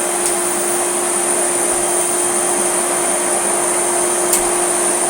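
A yellow Hoover Celebrity S3005 vacuum cleaner runs with its floor tool fitted, giving a loud, steady motor whine and airflow rush that holds even throughout, with no talking.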